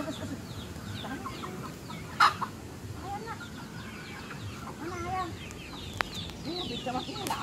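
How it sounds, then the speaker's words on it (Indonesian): Chickens at a grandmother's house cluck intermittently at moderate distance, with a couple of sharp knocks and background noise. "Panggil nak, panggil ayamnya."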